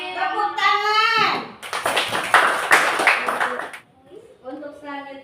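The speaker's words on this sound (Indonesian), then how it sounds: "Tepuk tangan." A class of children in an Indonesian classroom bursts into a rhythmic round of hand clapping lasting about two seconds, loud and close, with young voices chanting just before and after.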